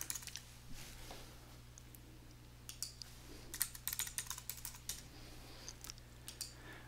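A computer keyboard being typed on as a username and password are entered, with quiet, irregular key clicks in short bursts over a low steady hum of room noise.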